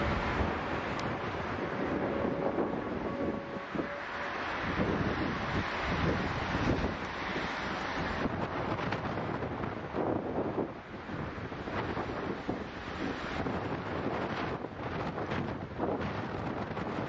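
Strong, gusting storm wind from Storm Barra buffets the microphone at Manchester Airport, a loud continuous roar with surging rumbles and no voices.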